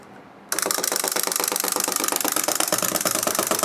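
A clockwork wind-up toy mechanism starts abruptly and runs with a fast, even buzzing rattle of ticking gears, close and loud for a few seconds.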